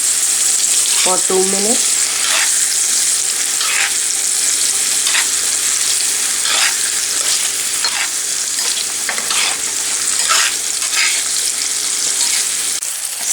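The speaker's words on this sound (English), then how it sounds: "Take few beets and fry this beet" Beets fry and sizzle in a pan for Kashmiri pulao with a steady hiss, broken by repeated scraping stirs and a brief metallic clink near the start.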